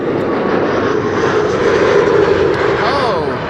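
An airplane taxis at an airport near the Kaagbaan runway. Its engine roar is a loud, steady rush that swells slightly midway while a voice talks over it.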